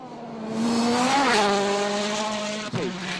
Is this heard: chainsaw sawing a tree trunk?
no